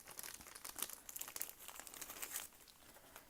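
Crinkly plastic packaging of a Butter London PURECURE manicure kit is pulled open up close, giving quick bursts of crackling and crumpling that fade to fainter rustles near the end.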